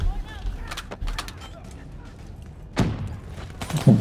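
A grenade goes off in the shooter game Call of Duty Black Ops III: a sharp, booming burst with a second blast close behind, over a steady bed of game noise and scattered gunfire.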